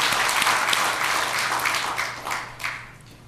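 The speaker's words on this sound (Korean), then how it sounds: "하나님 아버지께 다시 한번 영광의 박수 올려드립니다" A congregation at a Korean Sunday worship service applauds in praise, a burst of many hands clapping together that starts full and gradually thins out, with a few scattered claps lingering.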